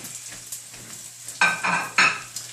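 Potatoes fry in a skillet with a soft background sizzle, broken by two loud bursts of scraping and stirring against the pan, plus a few lighter clinks.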